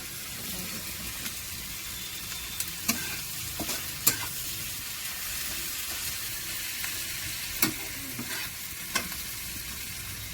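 Snails (ghongha) cooking with onion in a pan, a low steady sizzle with occasional stirring clicks and scrapes, no talk.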